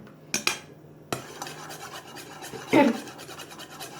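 Slime stirred to work in added colour, a few close scraping and clicking strokes of a utensil against a container, wet and uneven, with a voice talking over them.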